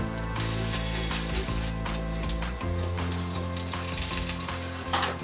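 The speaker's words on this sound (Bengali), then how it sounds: "বড়াটা ভাজা হয়ে গেছে, এটাকে আমরা তুলে নিচ্ছি।" Posto bora, a fritter of poppy seed paste ground with green chilli, frying in hot oil in a kadai with a loud, steady, continuous sizzle and crackle throughout.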